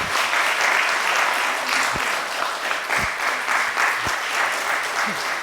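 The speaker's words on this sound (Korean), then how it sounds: "박수 쳐주세요." A church congregation at a Sunday service in Ulsan gives steady, full applause during an award presentation, a broad even wash of many hands clapping that continues for several seconds without a break.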